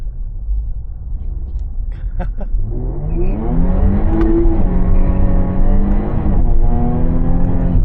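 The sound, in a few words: Jaguar F-Type revving and fishtailing during a burnout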